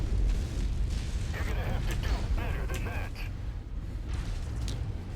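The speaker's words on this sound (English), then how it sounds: "Ammo explosion? You gotta be kidding me." Ammo explosion on a battle mech in the video game MechWarrior 5 rumbles as a heavy, sustained low boom with crackling debris, loud and continuous over game noise throughout.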